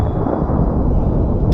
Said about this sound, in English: We're gonna take a shot at it and see how effective our pocket pistol is